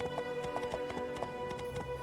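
Horse hooves clip-clop steadily in My Time At Portia, a quiet, regular gait beneath constant steady background game music.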